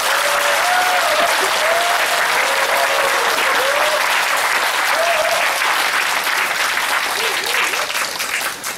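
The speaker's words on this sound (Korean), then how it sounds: "모두 박수 주십시오." A lecture audience in a church hall in Sanggye-dong, Seoul, claps together in sustained, even applause that fills the room for several seconds before slowly thinning out.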